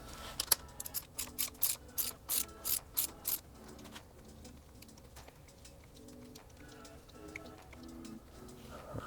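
A hand ratchet with a 19mm socket tightens a frame slider bolt on a 2022+ Yamaha R7 motorcycle, clicking in a quick run of crisp, close bursts that fade into quieter, sparser clicks, while birds coo faintly in the background.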